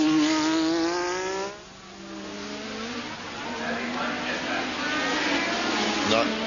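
Keke Rosberg's Formula 1 car at the 1985 Australian Grand Prix sweeps past at high revs: a loud, rising harmonic engine whine that dips briefly, then climbs through the gears again, steady and close throughout.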